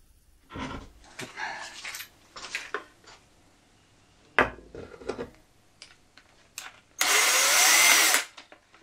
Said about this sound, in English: Do some pre-drilling for the fascia over there.